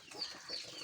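A chicken clucking close by in a brief, soft burst of short throaty calls.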